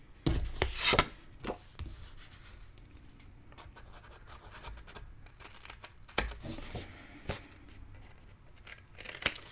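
Scissors snip through paper during mini album crafting, with several crisp cuts and scraping rubs, loud bursts early and again later, separated by quieter handling noise.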